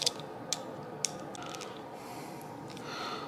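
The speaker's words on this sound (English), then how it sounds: "So you take the wrench and you just loosen these up" A few sharp metallic clicks from a wrench working the bolts on a lower wind deflector clamp of a Honda Shadow 750 ACE motorcycle, three quick ticks at the start and then faint scattered mechanical sounds over a quiet background.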